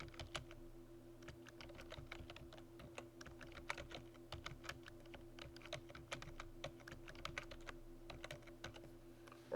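Steady typing on a computer keyboard, quick irregular key clicks running throughout over a constant low hum, with no voices.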